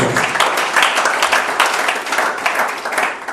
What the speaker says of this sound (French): us give a round of applause to the Lord Jesus